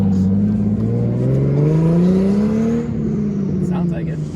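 A BMW S50 engine in an E30 revs loudly nearby, its tone rising smoothly and then easing off, with people talking over it.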